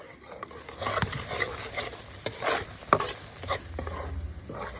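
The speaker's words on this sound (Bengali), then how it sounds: "পুর বানানোর জন্য কড়াইয়ে হাফ লিটার দুধ কাজু কিশমিশ গুঁড়ো দুধ পুরটাকে অল্প আছে ধীরে ধীরে ঘন করে নেব" Milk with cashews, raisins and milk powder thickening in a wok as a sweet filling for potol mishti, stirred with repeated scraping strokes over a soft steady simmer and sizzle, close and moderately loud, with no talking.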